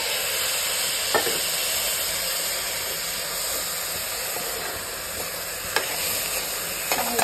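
Washed rice is tipped into a hot pan and stirred, giving a dense, constant sizzling hiss with a few faint scraping knocks.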